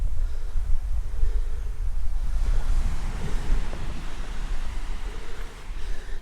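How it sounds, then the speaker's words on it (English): Ocean waves wash onto a small beach below a lookout, a continuous rolling surf with heavy wind buffeting the microphone and no voices. "You can hear the waves."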